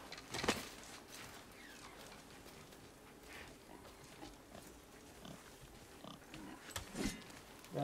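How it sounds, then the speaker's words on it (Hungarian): Wild boar grunts from the God of War game, a few short rough snorts spread across the stretch over a low game ambience, with one louder burst near the start and another later. "hallom az állatot hangját. Tudtam, hogy van disznó."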